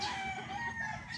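A gamefowl rooster crows once, briefly and a little distant, over a soft farmyard background.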